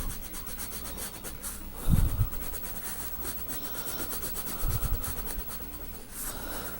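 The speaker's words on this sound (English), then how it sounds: "I think I'm gonna make it green with my broken green crayon." A broken green crayon rubs across paper in steady scratchy strokes, coloring in a drawing of a doll, with a couple of louder bumps from handling and no talking.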